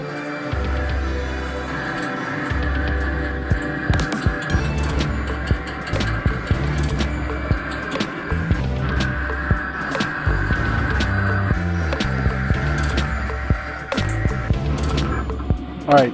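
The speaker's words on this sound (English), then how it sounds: "now that the machine's done printing" A sticker printer-cutter runs continuously with a low rhythmic rumble, mechanical whirring and repeated clicks and knocks as its carriage moves back and forth.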